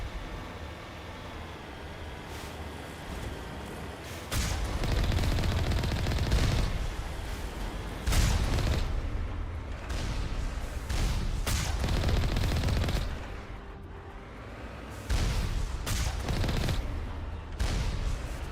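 Gunfire from a firefight against turrets in the video game Mass Effect, with loud bursts of shots and booming impacts recurring across the clip and no talk over them.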